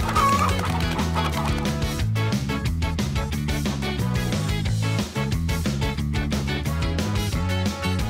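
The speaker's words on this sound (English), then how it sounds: "Find all the chickens and bring them back to the coop." Chickens cluck repeatedly in the video game PAW Patrol Rescue World over continuous, upbeat background music, the bird sounds blending into the busy, loud mix.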